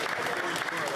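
Members of the Canadian House of Commons applaud a graduate's success, a brief, dense burst of clapping in a large chamber.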